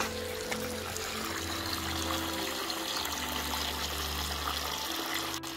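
Quiet, continuous trickling water from a small waterfall runs steadily in the background, soft and unbroken, with a faint low hum underneath.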